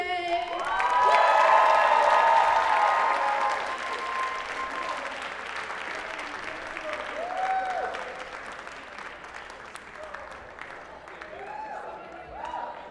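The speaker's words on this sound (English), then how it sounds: "one more round of applause for all the crews that performed today." Loud audience applause and cheering with whoops for dance crews at a choreography showcase, swelling quickly and then slowly fading to scattered claps and shouts.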